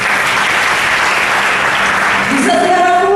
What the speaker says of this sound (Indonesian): Beri tepuk tangan bagi.